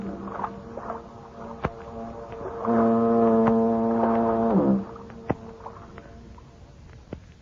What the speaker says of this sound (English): that symphony of foghorns booming across the bay